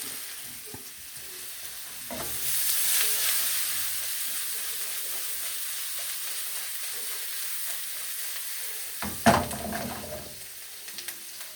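Onions frying in a pan as the base of a sauce for crépinettes: a steady, moderately loud sizzle and hiss, with stirring scrapes and a sharper clatter near the end.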